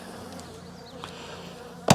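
Dense, steady buzzing of agitated bees swarming at the front of a disturbed hive, close and continuous, with one sharp knock near the end.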